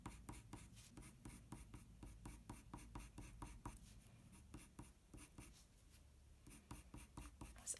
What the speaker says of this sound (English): Add some nice light strokes and turn the pencil as you go, because that keeps the pencil sharp